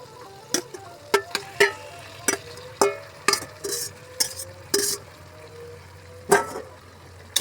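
Chicken pieces stirred with onions in hot oil for a Bengali chicken kosha, giving a steady low sizzle broken by a dozen sharp scrapes and clinks of the spoon against the pan.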